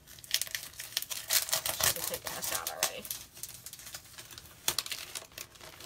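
A plastic bag crinkles and rustles close up as a chalk transfer is pulled free, with irregular crackling bursts while a person speaks briefly over it.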